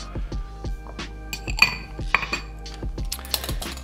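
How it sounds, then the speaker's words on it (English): Ice cubes clink and knock into a rocks glass during cocktail prep, with a series of sharp, close glassy taps and a few brighter rattles spread unevenly across the moment. "You can just use smaller ice cubes for this one."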